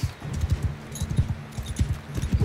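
Horse hooves in the video game Mount and Blade 2 beat a rapid, steady clip-clop of a galloping mount, close and clear, with no talk.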